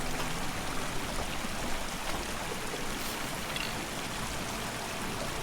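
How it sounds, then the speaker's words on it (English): Flowing water near a fountain and pipe in the forest game Deep Sleep: Labyrinth of the Forsaken, a continuous even rushing stream, loud and steady throughout with no voices. "I can hear water flowing."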